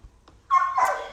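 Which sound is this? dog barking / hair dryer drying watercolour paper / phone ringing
dog barking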